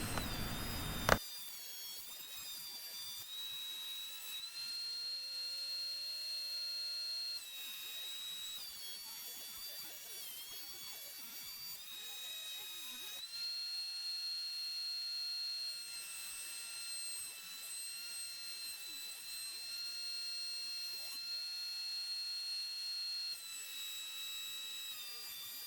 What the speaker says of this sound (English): this board was pretty flat to begin with, so I'm just going to trust the board and use my planer